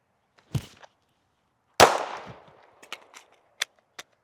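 A handgun fires at targets during a reload drill: two sharp shots with a gap between them, followed by several quieter metallic clicks and clacks from handling the gun, close and dry with no talk.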